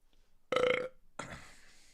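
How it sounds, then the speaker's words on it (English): A man burps on command: one loud, short belch, then a second, rougher and more drawn-out one after a brief pause, both close and alone. "I'm burping on command."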